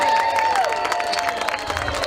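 A lively crowd at a No Glove Nationals softball event cheers and shouts continuously for the South Side Hall of Famers, a dense roar with scattered whistles and applause close by.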